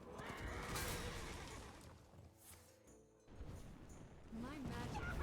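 A horse neighs loudly from a card in the Hearthstone video game, a whinny rising out of dense game sound effects and music, while a player talks at times.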